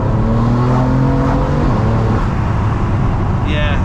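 A 560bhp BMW M3 pulls hard in third gear, its engine a loud, close drone that holds steady and then shifts pitch partway through, with road noise underneath.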